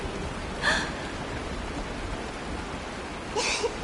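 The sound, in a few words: rain falling in a video game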